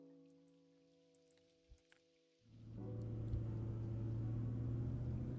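A truck engine in a trucking game idles quietly with soft drips and taps, then swells into a louder, steady low drone with a sustained hum that holds to the end.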